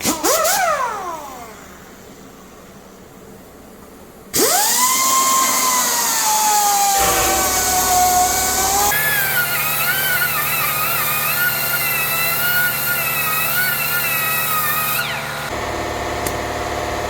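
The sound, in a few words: air compressor running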